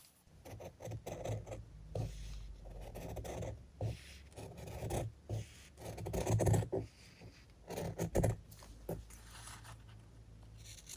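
Fabric is cut straight along a template, giving a steady close rasping and rubbing with short gaps and a few louder snips, continuing for several seconds without speech.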